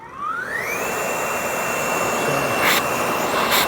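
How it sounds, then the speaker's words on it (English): An Fpz SCL-06 1/2 HP regenerative blower spins up with a rising whine that settles into a loud, steady jet-like roar and hiss, heard close and alone. "So that's a regen blower."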